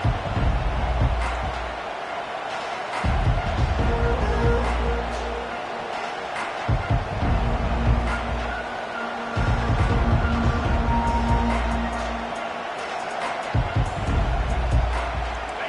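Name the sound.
stadium crowd cheering in an American football video game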